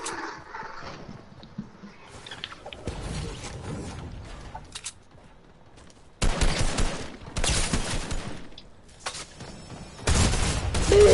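Drum shotgun firing in a video game, loud rapid blasts with mechanical clacks, arriving in two heavy bursts near the end after quieter handling and shuffling noises.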